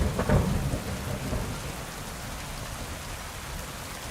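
Heavy rain pours in the Kingdom Come Deliverance 2 woods, opening with a low rumble of thunder before settling into a constant, dense downpour hiss.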